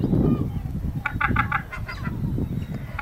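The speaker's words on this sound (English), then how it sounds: "The cat-cat call is used when the bird is agitated and unsure how to proceed." An agitated bird gives a cat-cat call, a short burst of rapid clucking notes in the middle, set against a constant low background rumble.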